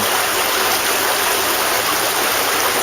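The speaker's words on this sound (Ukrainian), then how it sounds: "Це річка Сороки." The Soroka river in Lviv flows in a steady, continuous rush of running water, close and fairly loud, with no voices over it.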